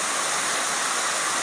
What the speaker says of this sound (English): the sound of the creek is nice